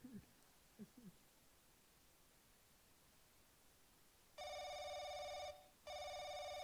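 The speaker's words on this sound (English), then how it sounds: "The phone is ringing!" A telephone in The Crooked Man video game rings with a loud electronic bell in two bursts separated by a brief pause, following faint rustling and quiet stillness.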